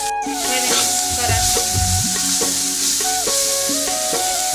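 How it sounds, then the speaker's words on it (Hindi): Salga bada mixture frying over high heat in oil while being stirred, a steady close sizzle with scraping strokes of a spoon running throughout. "थोड़ा तेज आंच में भूनूँ तब ज़्यादा अच्छा भून जाते हैं"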